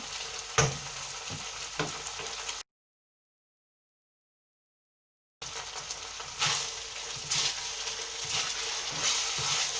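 Thai vegetable curry paste frying and cooking down in a pan, a steady close sizzle with occasional stirring clicks, broken by a gap of silence midway before the frying resumes.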